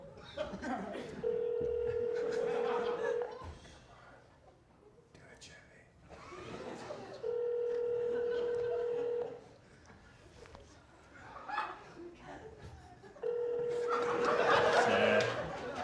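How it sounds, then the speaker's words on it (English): Three long ringback tones repeat from a phone, each a steady buzzing burst separated by pauses, with quiet chuckling and murmured talk between. "Let's try to call him."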